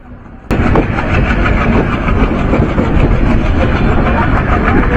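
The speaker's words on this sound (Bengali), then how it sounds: "কপোতাক্ষ এক্সপ্রেস ট্রেনটি চুয়াডাঙ্গার আলমডাঙ্গা রেলওয়ে স্টেশন থেকে তার পরবর্তী গন্তব্যের উদ্দেশ্যে ছেড়ে দিল" The Kapotakkho Express pulls away from Alamdanga station in Chuadanga. A quiet moment breaks abruptly into loud, continuous rolling rumble and wheel clatter that holds steady to the end.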